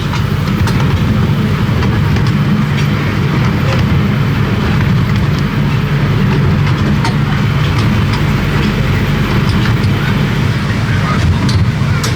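An amusement park ride train at Drayton Manor rumbles along continuously with a low, steady roar and faint rhythmic clatter, fairly close and loud throughout.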